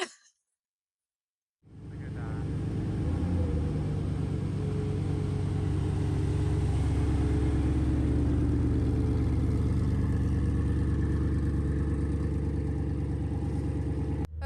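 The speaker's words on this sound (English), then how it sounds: "going for a drive in the Koenigsegg Regera. And so far, it is super loud, just barely driving" A Koenigsegg Regera hypercar's engine rumbles low and steady from inside the cabin while creeping along at low speed, starting abruptly after a moment of silence and holding a loud, droning tone.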